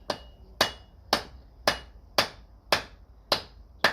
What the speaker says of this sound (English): all we're going to do is just with a wooden mallet